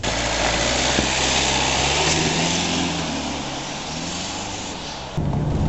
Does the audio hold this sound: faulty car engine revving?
yes